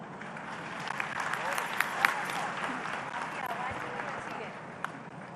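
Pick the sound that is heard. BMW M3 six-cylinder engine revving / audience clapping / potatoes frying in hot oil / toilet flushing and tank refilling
audience clapping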